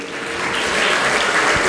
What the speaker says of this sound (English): I request everyone for the big round of applause for the same.